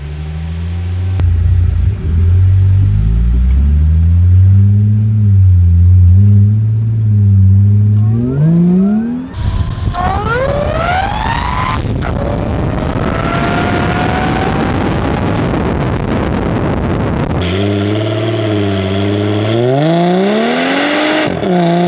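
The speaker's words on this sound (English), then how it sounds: "this exhaust and intake is sounding really effing good" A supercharged Mercedes SLK320 fitted with a new intake and exhaust revs hard and loud, rising and falling through several sweeping climbs in pitch with a rough, throaty rumble between pulls.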